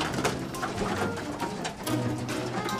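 Pigeons cooing in a loft, a continuous low burbling chorus of several birds close by with occasional wing flutters and rustling.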